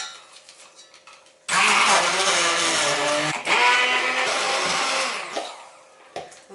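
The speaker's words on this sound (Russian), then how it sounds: "Яично-банановую смесь нужно будет измельчить с помощью блендера." A kitchen blender whirs loudly as it purées eggs with banana for a no-bake Oreo banana cheesecake, running steadily for about four seconds with a slight dip partway through, then stopping abruptly. Faint clattering comes before and after.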